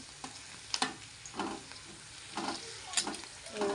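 Snacks fry in shallow hot oil, a faint steady sizzle swelling in short bursts as pieces are turned, with soft taps and stirring sounds nearby and no talk.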